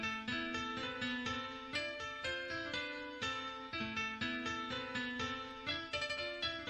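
Bright piano treated with EQ that cuts the mids and boosts the highs, plus chorus and delay, giving a retro feel; a dark melodic phrase of repeated chords rings with a smeared, ambient tail, steady and moderately quiet.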